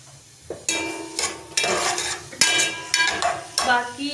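Chopped onions are added to hot oil in a pan for chicken korma, bursting into a loud, bright sizzle that is repeatedly stirred, each stir bringing a fresh surge of frying crackle and scraping, close up, with no talking.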